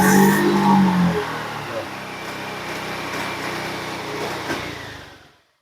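A 2019 Honda Beat scooter with a stuck, slow-returning throttle revs hard at close range, then holds a lingering elevated idle that never settles before fading out.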